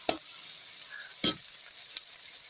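Banana blossom frying in a pan with spices, a steady soft sizzle broken by a few sharp scraping stirs, close and fairly quiet, with no talk.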